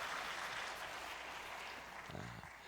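A church congregation gives faint, distant applause during a Christmas service, a soft wash of clapping that fades slightly toward the end.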